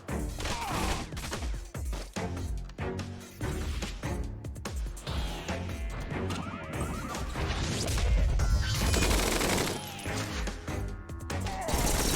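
Units firing in the strategy video game Tiny Metal, with repeated sharp crashes and impacts over busy game music and effects, loud and close throughout the stretch.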